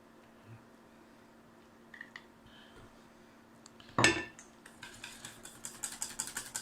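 A spoon scrapes and clinks against a bowl while yogurt mousse is mixed for small strawberry tarts, quiet at first, then a sharp knock and a run of faint rhythmic stirring taps.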